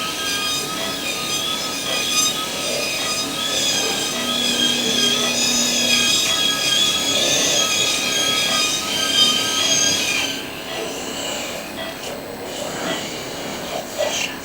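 A high-speed surgical drill enlarges a bone opening during microneurosurgery, whining and grinding continuously with a steady high-pitched tone, then easing to a quieter, rougher buzz near the end.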